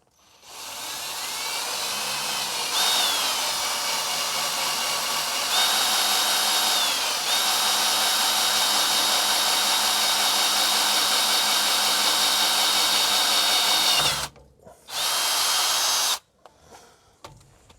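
A power drill whirs steadily for a long stretch, its pitch shifting as it bores a small hole through a vehicle's steering drag link part, then stops and restarts briefly before falling silent.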